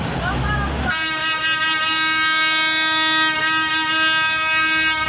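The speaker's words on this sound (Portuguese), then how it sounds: "Fala pra ele buzinar baixinho também." A loud, sustained harmonic horn blast starts abruptly about one second in and holds steady to the end over background noise, sounding like a vehicle or train horn.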